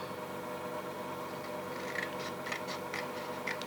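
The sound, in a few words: scissors cutting small paper strips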